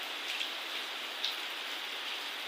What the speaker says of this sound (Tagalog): Pero dito sa atin umuulan.